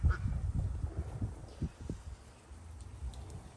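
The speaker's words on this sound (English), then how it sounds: "The ducks are really vocal today." Ducks quack and honk in a garden area at sunset, a few scattered nasal calls at moderate distance over low rumbling outdoor background.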